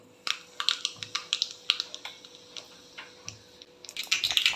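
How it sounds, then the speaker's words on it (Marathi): Mustard seeds crackling and popping in three spoonfuls of hot oil in a small kadhai on a gas stove for tempering, a rapid irregular run of sharp close ticks that thickens toward the end. "मोहरी छान तडतडते"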